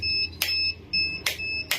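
A dual purpose egg incubator alarm sounds as a steady, high-pitched electronic beep in repeated long tones. Brief clicks or thumps break in between the tones, heard close and alone.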